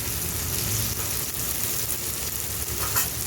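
Vegetables frying in a pan with turmeric and chilli powder for a Bengali prawn and drumstick chachchari, a steady, loud, close sizzle that carries on unbroken, with no talking.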